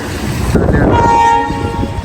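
A train crosses the new Pamban railway bridge, with loud continuous rumbling and clatter of wheels and a long horn blast sounding partway through, close and alone.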